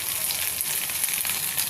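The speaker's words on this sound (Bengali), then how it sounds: "মশলা ভাজা হয়ে গেছে, এখন দিয়ে দেবো হলুদ" Spices frying in hot oil in a pan just as turmeric goes in while cooking tilapia fish, a steady close sizzle and crackle with no talking.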